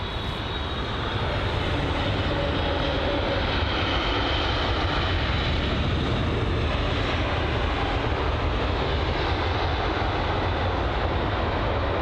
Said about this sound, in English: So the BA British Airways Boeing 777.